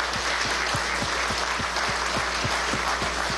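A studio audience at a Venezuelan televised program broadcast from Beijing breaks into steady, rhythmic applause, loud and even throughout with claps falling in a regular beat.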